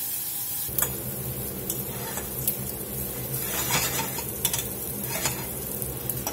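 Ham browns in a hot pan with a steady, close sizzle, while a utensil scrapes and clicks against the pan in scattered sharp taps.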